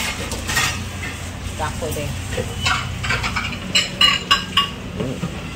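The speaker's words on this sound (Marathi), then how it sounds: "भांडी घासते" Dishes clatter and clink with scraping strokes, the clanks growing louder near the end, while someone speaks briefly over the kitchen noise.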